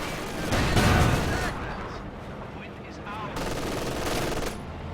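Bursts of MG42 machine gun fire in a World War II video game battle, dense rapid rattling with a loud opening burst and a second volley later, set against battlefield rumble.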